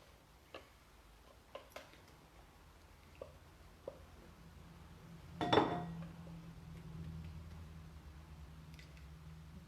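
A spoon gives a few faint, sparse clinks against a bowl while lotion is scooped, followed by a louder clattering scrape near the middle. Quiet background hum carries on afterward.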